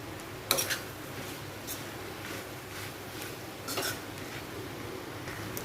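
A few sparse metal clinks of a spatula against a pan while capsicum is sautéed with coconut and coriander; the clicks are faint and spaced apart over a quiet, low kitchen background.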